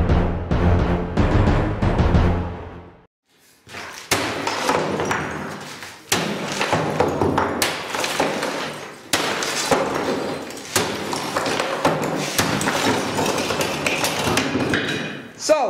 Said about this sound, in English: I'm destroying things. What's the thing you're destroying? It's an oven.